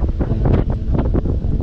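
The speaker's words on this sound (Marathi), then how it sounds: "एवढा वाऱ्याचा हेवी फ्लो आहे ना" Strong wind buffets the microphone on the hilltop at SagarGad Fort near Alibag, loud, close gusts that rumble and roar unevenly without a break.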